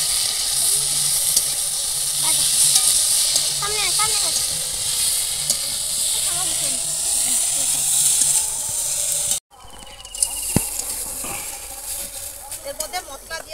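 Drumstick stalks sautéing with spices, onion paste and chili powder in a pan: a continuous close sizzle and hiss with occasional stirring scrapes, someone talking over it, then a sudden cut to quieter frying with clinks.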